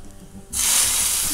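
After a brief quiet moment, a sudden loud sizzling hiss erupts as hot oil tempering with curry leaves is poured onto ridge gourd peel chutney, and keeps crackling steadily.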